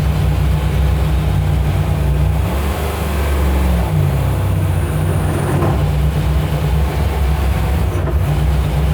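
A 900 hp NASCAR-powered 1970 Plymouth Cuda runs with a loud, dense, rumbling engine drone that holds steady throughout, close and continuous with no talking.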